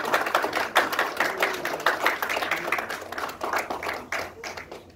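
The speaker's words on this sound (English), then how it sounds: "let us give a bigger applause to Advanced Communicators" A small audience at a Speechcraft public-speaking session claps for the Advanced Communicators, uneven bursts of handclaps close by that rise and taper over several seconds.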